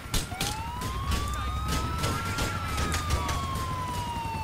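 A wailing siren sweeps slowly up and down from an ambulance driving in GTA IV, loud and close over a low engine rumble and scattered clicks.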